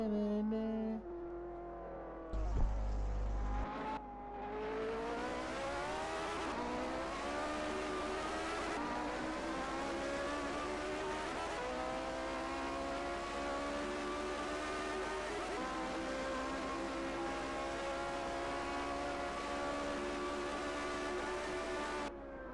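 Several 1960 Formula 1 race cars in a racing video game, their high-pitched engines droning and shifting pitch steadily as they drive, loud and continuous, with one brief thump early on.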